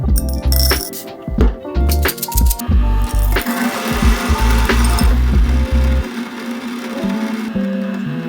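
A Key burr coffee grinder grinding coffee beans, loud and close, with a rough mechanical whir and a series of clinks and knocks, then a steadier grinding drone, with no talking.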